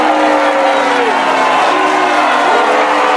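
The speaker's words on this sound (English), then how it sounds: "Mixed crowd reaction there" A crowd at a Man City versus Chelsea football event reacts with continuous, loud applause mixed with cheering and some whistles, a dense, steady wash of sound lasting a few seconds.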